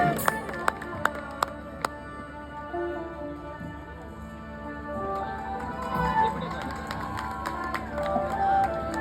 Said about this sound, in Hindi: अच्छी है तो ताली बजा के बता दो